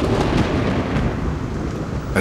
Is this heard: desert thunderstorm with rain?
yes